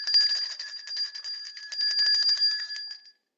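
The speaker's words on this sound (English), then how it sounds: "I'll give him a bell ring." A small bell rings on a weather show, sounding as a rapid, steady trill of bright metallic strikes that lasts about three seconds before stopping abruptly.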